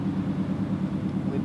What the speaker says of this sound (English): there's a big truck just behind me